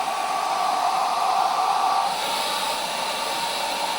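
An inexpensive AliExpress hair dryer runs on its lowest setting, giving a steady, even whirring hiss of motor and airflow that holds constant for the whole stretch with no voices.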